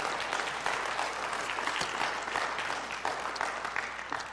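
A lecture audience applauds at the end of a talk, steady crowded clapping with individual claps standing out, sustained for several seconds and gradually easing off.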